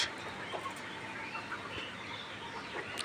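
Layer hens about 89 days old cluck softly on a poultry farm under a constant hiss of background noise, the calls faint and scattered.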